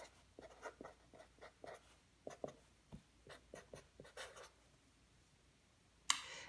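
Pen writing on a sheet of paper, close and quiet, a series of short scratchy strokes in irregular bursts with a brief louder tap near the end.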